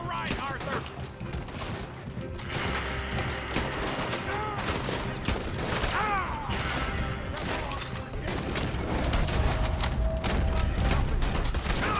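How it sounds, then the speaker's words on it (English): Dense gunfire fills a shootout in the video game Red Dead Redemption 2, with rapid overlapping shots, mechanical reloading clicks and voices talking throughout. "Shoot them, Arthur, before they blow us to high hell!"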